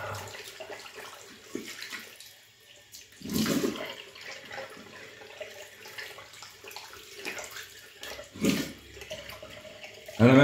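Running tap water rinsing soap off hands, an uneven splashing flow with a couple of louder gushes, close and alone without talk.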